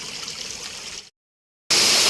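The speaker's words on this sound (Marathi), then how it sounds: "हे बघा छोटे छोटे पाणी बघा किती मस्त वाटते" A small stream of water flows near Adai waterfall, a steady bright rushing trickle heard close, briefly cutting out to silence before returning louder, with no voices.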